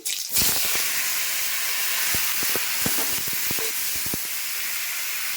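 Tomatoes drop into hot oil in a wok already holding dried red chili and panch phoron, bursting into a loud, sudden hiss that settles into a steady, close sizzle dotted with sharp crackles and pops, with no talking.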